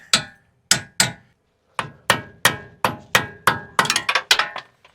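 A hammer repeatedly strikes an extractor tool and punch while removing the upper control arm from a 4th gen Toyota 4Runner: about a dozen sharp, ringing metallic blows, spaced at first, then quicker near the end, loud and close.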